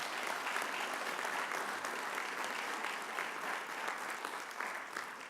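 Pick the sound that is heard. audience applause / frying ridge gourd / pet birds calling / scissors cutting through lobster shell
audience applause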